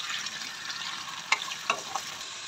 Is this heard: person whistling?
no